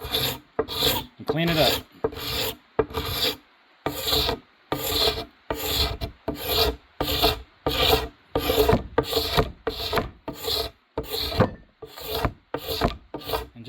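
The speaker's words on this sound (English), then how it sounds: "I'm going to come over here with my knife, holding it like a scraper" A knife held like a scraper rasps along a wooden ring, chasing the grain in steady, evenly spaced strokes, each a loud dry scrape with short pauses between; it sounds close and carries on without a break.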